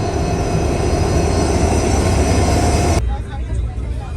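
A loud, close arriving train rumbles and roars continuously, then the noise cuts off abruptly into quieter surroundings.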